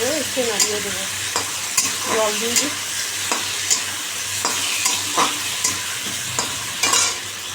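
A spoon stirs egg curry simmering in a pan, giving repeated scraping strokes over a steady low sizzle, close and fairly loud, with no talk.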